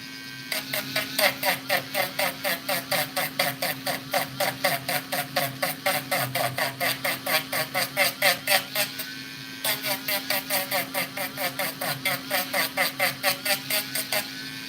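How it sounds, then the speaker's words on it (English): Hand rotary grinder smoothing plastic welds on a large 3D-printed replica of the Dragonslayer sword from Berserk, a steady buzzing whine that pulses in rapid regular bursts, briefly pausing midway, with a constant low hum beneath. "I'm just grinding all my plastic welds, making them look a little bit better to finish it off."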